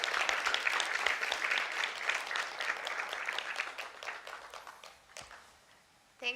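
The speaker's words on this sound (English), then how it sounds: "So if we could all give Evan a big hand of applause for this great performance" Audience applause following a game design talk, dense clapping from a room full of people that carries on for several seconds, thins out and dies away, with a brief sound near the end.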